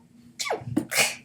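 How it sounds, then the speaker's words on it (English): A person gives a single close sneeze, a sharp intake followed by a bright, explosive burst, then a breathy exhale. "You sneeze like a Pikachu"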